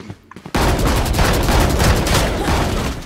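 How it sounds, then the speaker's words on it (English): Rapid gunfire in a deathmatch video game, beginning abruptly after a quiet half second and continuing as a loud, sustained burst of close shots, with no voices. "She got me with a shotgun again."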